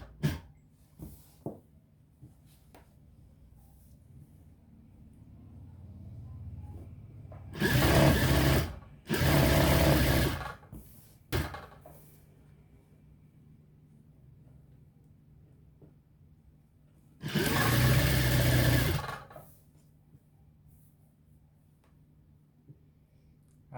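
Sewing machine stitching an Arabian-style burqa, running in three loud, steady bursts of a few seconds each, with quiet pauses between them and no talk.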